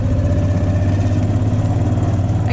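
A small engine on a raccoon trapping line is revved to keep it from stalling, producing a steady, loud, close throbbing drone with a pulsing low rumble throughout.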